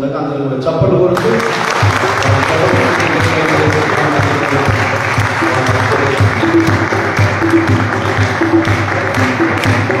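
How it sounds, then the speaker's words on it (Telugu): An audience at a college hall Christmas celebration claps in a sustained, dense burst of applause, loud and continuous, after a brief moment of speech at the start. "అందరూ కూడా చప్పట్లు కొడుతూ"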